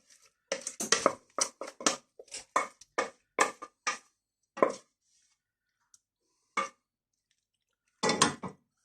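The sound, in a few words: transferring mac and cheese to an oven-proof dish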